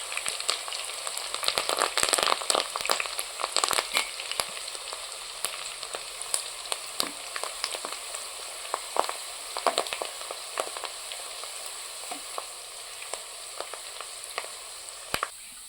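Chopped red onion pieces frying in hot oil with fenugreek seeds, cumin and a little curry leaf, a steady crackling sizzle with bursts of spitting pops, loudest at first and settling slightly over a long stretch.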